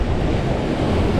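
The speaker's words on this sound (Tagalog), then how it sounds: "Lalaki ng mga alon, guys." Big sea waves surge and break at a fishing spot, a steady loud roar of surf mixed with wind buffeting the microphone, continuous with no talk.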